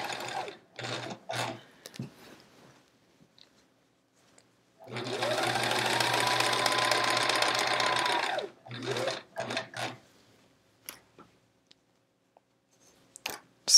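A sewing machine stitches a quilt top in one steady, close run of several seconds, framed by quieter fabric handling and brief intermittent stitching bursts.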